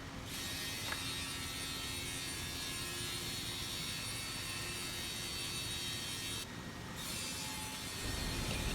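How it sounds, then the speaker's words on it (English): A CNC machine on an MgO board production line trims the four edges of a magnesium oxide board, giving a steady, loud grinding and buzzing roar that runs almost unbroken, with one brief dip. "we will use this CNC machine to cut in the four edges of MGO board according to customer's requirement size"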